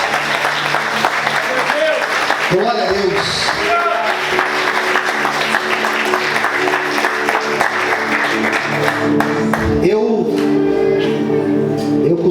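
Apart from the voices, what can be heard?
congregation applauding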